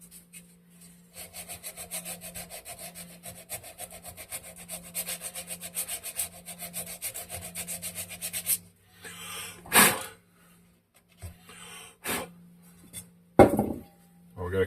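Coarse 80-grit sandpaper scratching up the surface of a Wisconsin Model AB engine part to prepare it for epoxy: a steady rhythmic back-and-forth rasping for about nine seconds, then a few louder separate scrapes and knocks.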